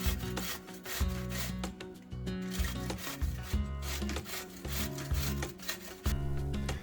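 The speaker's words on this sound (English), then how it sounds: "Then grate the entire cucumber." A whole peeled cucumber grated for tzatziki sauce gives close, rhythmic rasping strokes, each a short scraping rub repeating steadily, with no voices.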